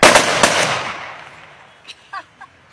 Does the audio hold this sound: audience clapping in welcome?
no